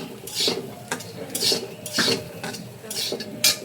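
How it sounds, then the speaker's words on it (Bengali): Peanuts being stirred in a pan while frying, with rhythmic scraping strokes of a utensil repeating about every half second, close and fairly loud, no talking. "বাদাম ভেজে নিচ্ছি"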